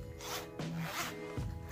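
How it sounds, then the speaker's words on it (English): A zipper on a Nicole Diary 72-slot holo stamping plate case holder is pulled in a few short rasping strokes, close and fairly quiet, with no talking. "Zipper."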